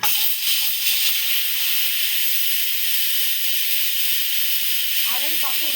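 Steam hisses loudly and steadily from a pressure cooker after its whistle is taken off, a broad rushing noise that carries on throughout, with a brief voice breaking in near the end.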